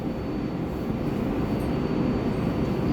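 An R188 7 local subway train bound for Flushing–Main Street runs with a steady, loud rumble and rail roar that hold evenly throughout, with no voices over it.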